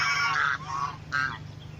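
A goose honks twice, loud and close, in two nasal calls separated by a short pause, with no talking.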